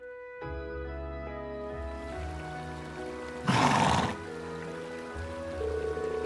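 Arthur, a horse in the video game Trails of Cold Steel 2, lets out a short whinny over a soft, sustained musical backdrop, with a louder noisy burst partway through.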